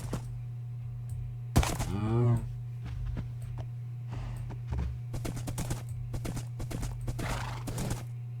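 Irregular hoof clomps from a galloping horse in Minecraft, with a loud whinny near the start, over a constant low game hum; the hoofbeats come in uneven clusters.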